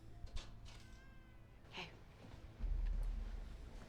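A cat meowing on a movie soundtrack, a few faint plaintive mews in a quiet room, followed by a low rumbling thud.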